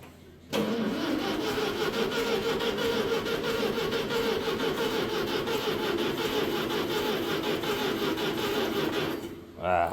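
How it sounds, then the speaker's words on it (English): A Massey Ferguson TE20 tractor engine being cranked over by its starter after years without running: a steady, continuous churning drone lasting around nine seconds, close and even, stopping just before the end. "let's spin the motor over a little bit."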